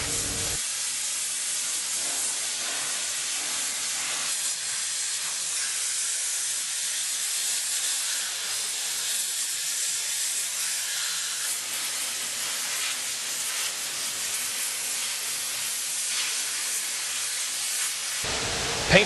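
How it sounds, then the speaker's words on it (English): A cleaned machine attachment is blown dry with compressed air, producing a steady, loud broadband hiss that runs almost unbroken for the whole stretch and then cuts off near the end. "Following cleaning, the attachment is then blown dry and moved into paint preparation."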